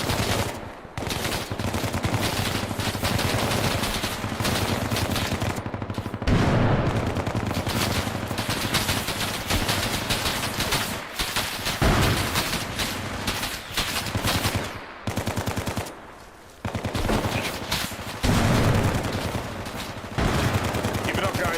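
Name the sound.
machine gun fire during a firefight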